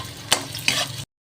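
Garlic and onion sauté in a pan for sinigang, a close sizzle with two quick stirring scrapes before the sound cuts off abruptly.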